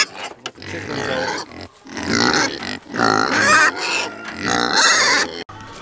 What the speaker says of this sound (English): How do you doing, pigs?